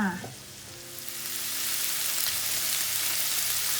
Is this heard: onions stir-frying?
yes